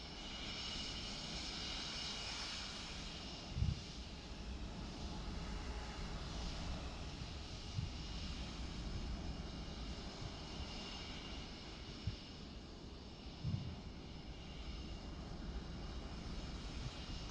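Turkish Airlines Boeing 737 jet arriving in Microsoft Flight Simulator 2024, a steady moderate engine drone with a broad whine held throughout, a few brief soft thumps standing out, and no talk over it.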